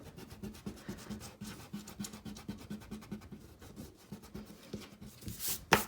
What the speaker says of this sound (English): Erase those lines